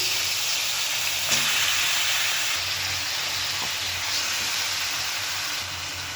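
Washed beef pieces hit hot oil in a pan on medium heat and sizzle steadily, a close, dense hiss holding evenly throughout with a few faint clinks and no talking.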